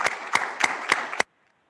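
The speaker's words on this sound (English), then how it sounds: "So I'd just like to offer up a round of applause for our outgoing trustees and thank you." Five sharp claps at a steady beat ring out from a few people at the close of a university board of trustees meeting, ending abruptly and leaving silence.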